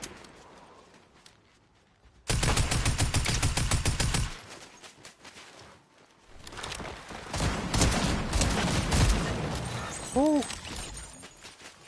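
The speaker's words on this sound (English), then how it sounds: "I'm shooting, bro." Rapid automatic gunfire from Fortnite rattles in a loud sustained burst, then resumes in a denser, rougher volley with scattered shots, while players talk.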